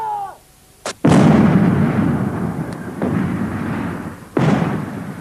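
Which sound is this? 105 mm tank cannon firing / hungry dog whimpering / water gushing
105 mm tank cannon firing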